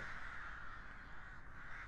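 Crows cawing as a sound effect for a fantasy ASMR roleplay, heard as a steady, faint layer of harsh calls blended with continuous background noise throughout, with no talking.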